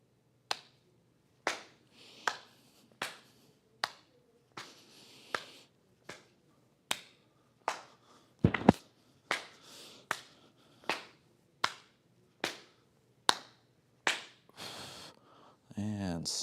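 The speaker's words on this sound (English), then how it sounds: "clap your hands behind you" Hands clapping behind the back during a seated-friendly tai chi routine: about twenty crisp, evenly spaced claps, quiet and close, roughly one every three-quarters of a second.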